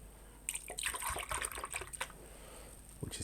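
Water poured from a canister into a small water pot, a short burst of splashing and trickling that fades to quiet, with a faint drip near the end.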